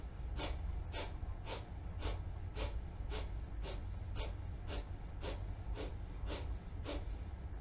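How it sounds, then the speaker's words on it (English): Rhythmic bursts of breath during a yoga plank, about thirteen short, even exhalations, roughly two per second, steady and close over a low background hum. "Keep breathing out."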